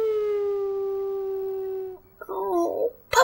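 A puppy in the video game Dragon Age: Origins gives one long, sustained howl that slowly falls in pitch, then lets out a few short whimpering yelps and a sharp final sound.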